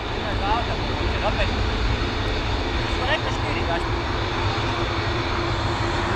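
A Ryanair airliner comes in high on approach to Dublin Airport at evening, its engines giving a steady, broad roar throughout.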